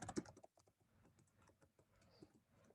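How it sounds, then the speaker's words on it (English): Typing on a computer keyboard: quiet, irregular key clicks with a denser burst of keystrokes at the start, then softer scattered taps, with no talking. "yeah, we'll just keep typing it out here."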